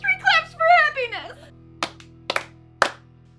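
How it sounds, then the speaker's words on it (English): Three sharp hand claps, spaced roughly half a second apart, come right after a short spoken phrase, each crisp and close in an otherwise quiet room. "Three claps for happiness."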